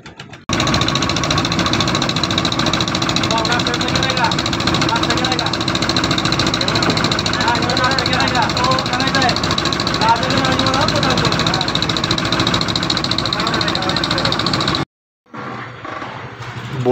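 A motorboat engine runs steadily at the start of a boat ride on a jungle trek trip, a loud continuous drone with a rattling, knocking texture that holds for about fifteen seconds before cutting out briefly.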